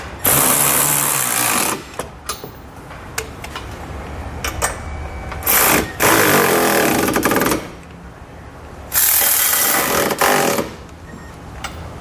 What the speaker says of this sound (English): we'll tighten up all the 1/2 inch flange nuts